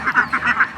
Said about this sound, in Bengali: সবগুলোই খাকি ক্যাম্বেল হাঁস দেখতে পাচ্ছেন।